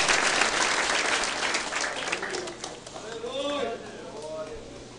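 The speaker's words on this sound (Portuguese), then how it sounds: "Louve ele com bastante palmas." A church congregation claps hard in worship, with dense clapping that fades after a couple of seconds. Voices then call out over the softer clapping.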